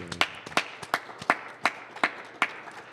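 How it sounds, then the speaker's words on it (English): Sparse, evenly spaced hand claps welcoming a guest onto a talk show, about eight sharp claps at a steady beat, close and dry, with no voices. "Let's give a round of applause"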